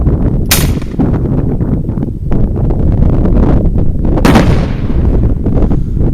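A Mossberg 500 shotgun fires 12 gauge bird bomb rounds outdoors, two sharp loud blasts a few seconds apart over steady heavy wind noise rumbling against the microphone.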